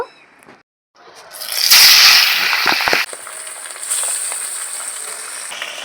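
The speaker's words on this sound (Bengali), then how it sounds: "কড়াইয়ের তেল ভালো মতন গরম হয়ে গেছে এখন আমি মাছগুলো ভেজে নেব" Pabda fish dropped into hot oil in a kadai burst into a loud sizzling hiss that settles into a steady frying crackle, close up and alone.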